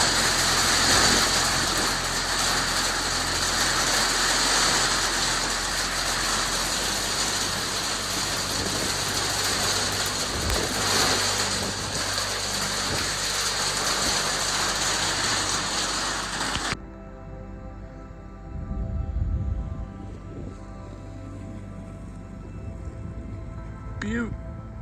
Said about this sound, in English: It started raining, but it's kind of a beautiful sunny rain.